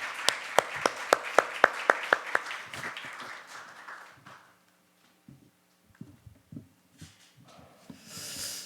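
An audience at a church worship and praise conference claps to welcome a pastor to the stage, a quick run of sharp, fairly close claps that thins out and stops after a few seconds, leaving near silence with faint rustles.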